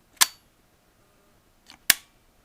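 Shutter of a Polaroid instant camera firing with its electric eye covered: two sharp, close mechanical clicks about 1.7 seconds apart, the second led by a softer click, in otherwise quiet surroundings.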